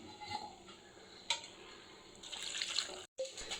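Water poured into a pan of rice, moong dal and fenugreek leaves for pulao, giving a steady close splashing and trickling run with a brief gap near the end.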